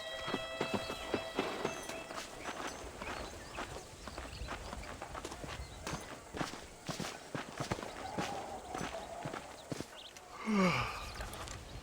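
Horse hooves clip-clop in a steady riding rhythm in Red Dead Redemption Remastered on PC, a mid-level repeated beat layered with game ambience and a louder swoosh near the end.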